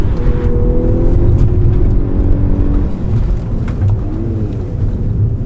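A 2022 Volkswagen Golf R engine hums steadily under load while driving, a loud, close, low rumble that rises and eases slightly without breaking off, with no talk over it.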